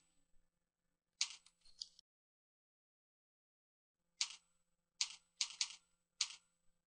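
Keystrokes on a computer keyboard while a defect ID is entered in quality-testing software: a short cluster of taps, a pause, then several more quick, crisp clicks, close and quiet with no voices.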